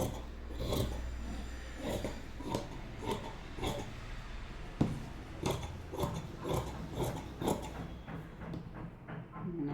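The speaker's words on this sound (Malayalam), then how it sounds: "നല്ല തുണിയിലേക്ക് കട്ട് ചെയ്യുമ്പോൾ കുറച്ച് നീക്കിയിട്ട് കട്ട് ചെയ്യണം." Scissors cut through fabric for a princess cut blouse in a rhythmic series of close, soft crunching snips, roughly two per second, over a quiet background.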